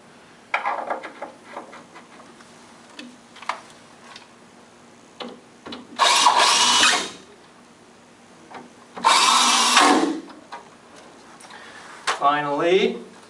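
A power drill drives screws into long panels of candy display assembly in two loud, sustained whirring bursts, with tapping and clicking of handled parts between them and a voice talking throughout.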